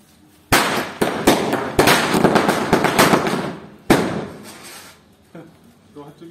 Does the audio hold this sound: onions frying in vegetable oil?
no